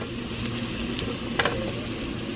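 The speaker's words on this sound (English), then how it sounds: "the pork itself that you've beaten is thin, so you're really sauteing the pork" Thin pounded pork schnitzel cordon bleu with Colby cheese sauteing in a pan gives a soft, steady sizzle with a brief louder crackle in the middle, fairly quiet and close, without talk.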